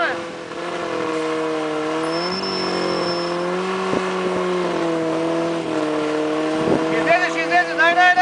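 An off-road car engine revs steadily and loudly while the vehicle is stuck, its pitch rising and dropping with bursts of throttle, with shouting voices over it near the end.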